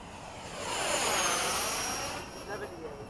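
F-104 jet aircraft makes a speed pass, a broad roaring rush that swells and fades within a few seconds, fairly distant and moderate in level.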